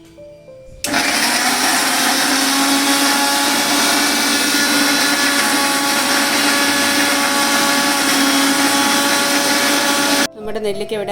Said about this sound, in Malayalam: നമുക്ക് ആദ്യം ഇതെല്ലാം ഒന്ന് അരച്ചെടുക്കണം